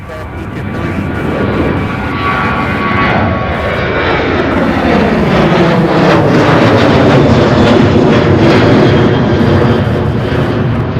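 UPS heavy freighter jet taking off at Louisville airport, a loud sustained jet engine roar with whining tones sweeping as it climbs away, steady and powerful throughout.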